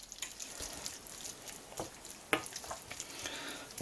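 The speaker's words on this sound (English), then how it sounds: "So we'll stir that in." Parsley being stirred into crab meat pasta in a hot pan, with a soft steady sizzle and occasional scraping stir strokes, fairly faint and close.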